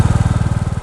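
A Royal Enfield Bullet motorcycle engine runs with a steady, rapid thumping beat and a buzzing edge on top, loud and close, alone with no talk, recorded on a ride in Epping Forest.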